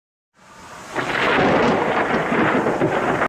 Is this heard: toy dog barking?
no